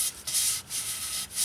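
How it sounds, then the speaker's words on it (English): Hand sanding of cured resin on the lower valence of a 1977 Camaro Z28, a close, steady hissing scrape in short back-and-forth strokes with brief pauses between passes. "A little more sanding at the bottom there."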